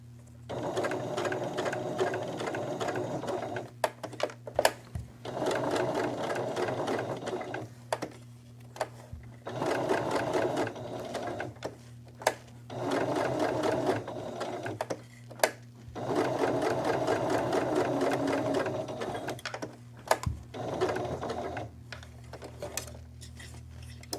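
A sewing machine stitches around a curve in repeated bursts of fast, even mechanical whirring, stopping and restarting several times for pivots with small clicks between runs, close up and with no talking.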